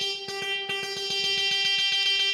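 Guitar part from a track recreation, a bright, buzzy electric tone holding a steady high note over a rapid, even pulse of short plucked hits, loud and alone with no voices.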